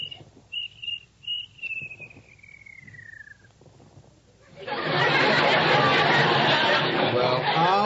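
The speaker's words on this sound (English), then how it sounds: "Please, Mr. Cricket, George has work to do." A radio-comedy cricket sound effect chirps loudly and continuously near the end, following a stretch of talk and a falling whistle.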